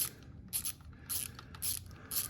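A ratchet clicks in short bursts while motorcycle bolts are tightened on an XL250R, several quick runs of close, crisp ratcheting separated by brief pauses, with no talking.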